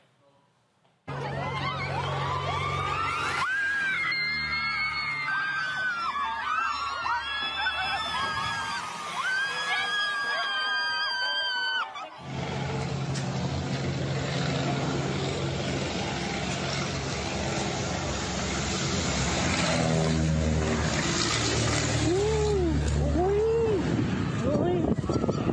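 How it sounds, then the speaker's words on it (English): Crowd at a gender reveal event in Mexico, with a plane overhead: loud continuous yelling and screaming with engine drone, and people talking throughout. "all them people out there yelling and hollering and screaming"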